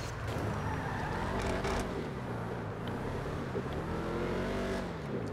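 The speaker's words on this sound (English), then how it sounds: "That engine just sounds beautiful." Car engine in the GTA video game revving loudly with rising and falling pitch, steady and continuous throughout with no talk over it.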